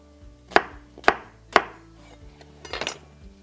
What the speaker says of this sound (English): So let me go ahead and cut up this onion